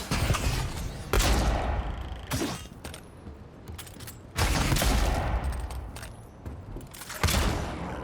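Dual pistols firing in the video game Avowed: dense bursts of rapid gunfire in loud volleys, with impact crashes and breaking sounds between them, close and continuous.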